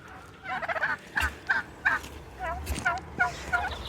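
Several turkeys gobble in quick, warbling bursts, close and moderately loud, with a low rumble underneath.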